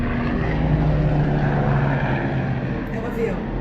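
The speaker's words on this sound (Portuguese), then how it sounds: "É um avião." A propeller airplane passes overhead as a steady, loud engine drone with a low hum that lasts throughout, recorded indoors during a children's Bible class.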